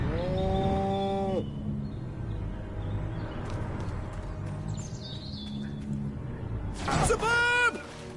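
Cow mooing in the video game Destroy All Humans! Remake, two drawn-out moos at the start and end of the clip, with game ambience and faint chirps in between.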